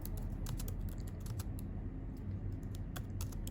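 Quick bursts of keystrokes on a computer keyboard while a message is typed, irregular clicks in short runs with brief pauses, close and fairly quiet over a low background hum.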